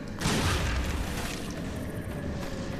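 A rocket explosion in the shooter game NecroVisioN: a single heavy boom bursts out near the start, then rumbles and decays into a noisy wash.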